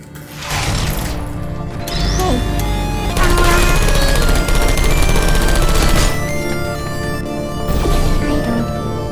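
Turrets firing bullets in Portal 2, a loud sustained rattle of rapid gunfire with mechanical clatter and crashing impacts, continuous across the whole stretch with brief surges.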